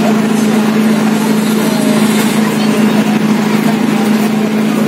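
Tour boat engine departing on Hussain Sagar lake, a steady humming drone with a constant low tone, loud and continuous under general crowd and water noise.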